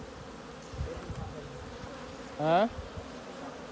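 Honey bees around the hives on a Jamaican bee farm, a soft steady hum underneath a brief close buzzing pass by one bee, with a single short spoken exclamation.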